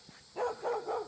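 A dog, apparently off its leash on a country walk, gives three quick barks in a row, moderately faint and somewhat distant, with no talk over them.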